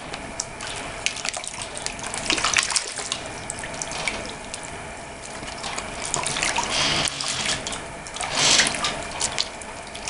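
Running water rinses a silicone sluice mat from a Miller table, a steady close gush and splash that lasts throughout, with surges as the mat is moved under the stream.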